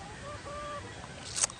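A breeding chicken, a McLean and Asil cross, gives a brief cluck near the end of a short, quiet stretch of faint farmyard background.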